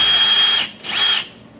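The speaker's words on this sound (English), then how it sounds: "let's zip out these screws with our drill" Cordless power drill backing screws out during an LED light upgrade on a Foreman Rancher Rubicon ATV, two loud close whirring bursts, the second shorter, with a brief pause between them.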